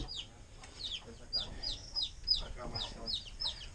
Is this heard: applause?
no